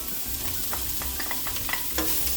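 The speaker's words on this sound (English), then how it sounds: "And we're gonna stir it in." Garlic and cilantro sizzle steadily in a hot frying pan while a utensil stirs them, scraping and tapping lightly against the pan. The sound is close and even, with no talk.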